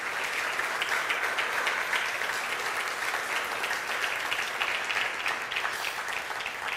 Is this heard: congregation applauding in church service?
yes